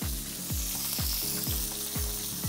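Pork chops frying in a hot pan give a steady close sizzle, with a few low thumps and clatters from the pan and turning throughout.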